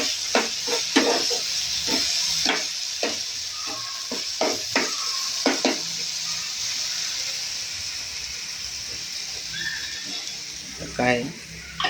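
Paneer bhurji with a little water sizzles in a pan, a constant bright hiss broken by repeated scraping stirs from a spoon, and a brief voice near the end.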